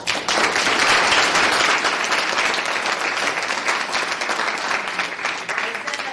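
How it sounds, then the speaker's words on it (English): A live audience at a U.S. Senate primary debate between the Royce White and Joe Fraser camps breaks into loud, dense applause that carries steadily for several seconds and fades slightly toward the end. "So give both of these camps a round of applause."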